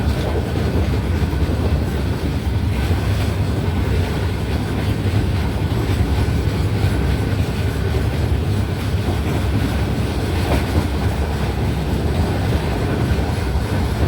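The Pune–Kanniyakumari Express runs between Pettah and Thiruvananthapuram Central, heard from on board as a loud, continuous rumble with faint rhythmic clatter of wheels on rail joints throughout.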